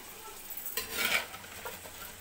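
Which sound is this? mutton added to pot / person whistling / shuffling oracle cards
mutton added to pot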